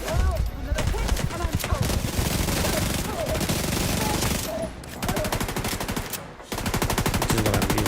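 Rapid SMG gunfire from The Division 2 crackles in long, dense automatic bursts, loud and close, broken by a couple of brief pauses, with a voice talking faintly underneath.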